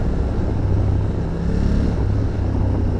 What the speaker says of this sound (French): un beau bruit de boîte à air, un petit peu d'échappement aussi